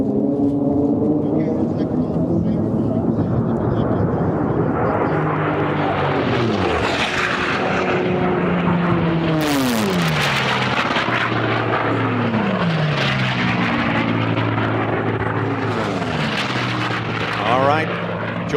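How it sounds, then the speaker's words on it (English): Racing propeller planes roar past the pylons at the STIHL National Championship Air Races, their engine drone rising and falling in loud pitch sweeps as each aircraft passes close by, with a commentator talking over them. "Listen to those planes go by the pylons."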